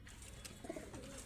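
Pigeons in a loft cooing softly, a brief low coo rising faintly over a quiet background hum.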